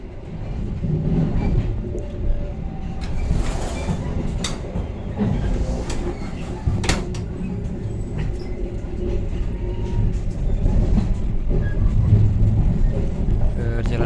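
Inside a Pasundan economy class passenger train with upright seats, a steady low rumble and rattle of the carriage continues throughout, with passengers' voices murmuring beneath and occasional clanks.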